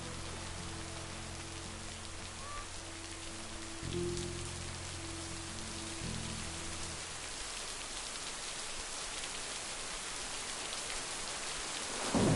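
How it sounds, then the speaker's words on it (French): Steady rain hisses through a forest during a thunderstorm in the video game Lake, with a low droning layer that fades out partway through, while the downpour continues evenly to the end. "Enfin, fond de la forêt avec l'orage et tout."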